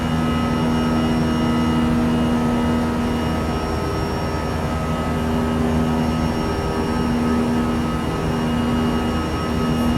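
Airbus A320 engine sound pack in a flight simulator game, a steady loud jet engine drone with a constant tonal whine, unbroken throughout.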